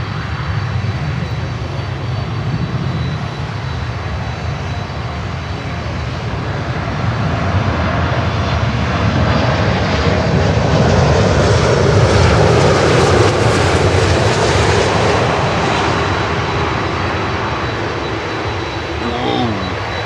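Cathay Pacific Boeing 747 cargo plane arriving from Anchorage on approach to land in gusty wind, a loud steady jet engine roar that swells toward the middle and holds throughout, with wind noise around it.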